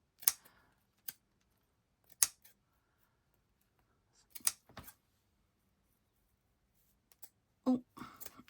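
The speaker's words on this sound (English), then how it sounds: "I might do the same again and trim some of this up because it's kind of the lace I want" Scissors snip through lace for a shabby chic junk journal, with sharp isolated cuts spaced a second or two apart in a quiet room, clustered at the start and again near the end.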